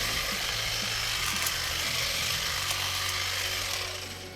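A Ryobi 18 volt cordless hedge trimmer (P2660) buzzes steadily and loudly as it chops through quarter-inch tree branches up close, with faint snaps along the way and the motor easing off at the end.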